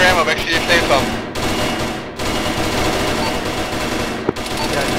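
Loud automatic gunfire in Arma during a ShackTac squad firefight, dense rattling bursts broken by brief pauses, close and dominating the mix.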